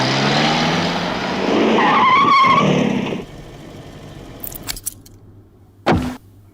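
A car in the Bollywood action film Soldier skids to a stop with a loud, drawn-out tire squeal lasting about three seconds, followed by quieter clicks and a single sharp thump.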